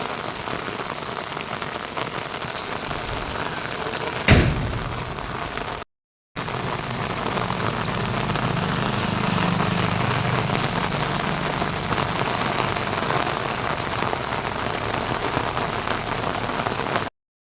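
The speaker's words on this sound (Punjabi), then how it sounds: "ਹੁਣ ਤਾਂ ਮੀਂਹ ਬਾਹਲਾ ਜ਼ਿਆਦਾ ਹੈ" Heavy rain pours steadily onto surfaces nearby in a village, a loud continuous hiss broken by a brief sharp crack and a moment of silence.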